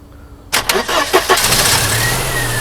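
A Mercedes W124 230E cranks and catches at about half a second, then settles into a steady idle, close and loud, with no talking.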